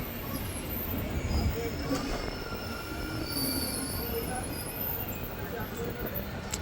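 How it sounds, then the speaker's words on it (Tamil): A train runs through a forest, its wheels squealing in high, drawn-out tones over a steady, loud rumble that lasts the whole time, with a voice talking underneath. "இதுக்குள்ளே ட்ரெயின் அடிக்கடி போகிறதால அந்த சவுண்டு, இரைச்சல்"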